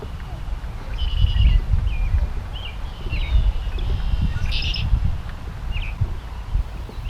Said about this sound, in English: Many birds see their way to the marsh, including ducks, woodpeckers, bald eagle, osprey, blue herons, and egrets, and many songbirds and other species.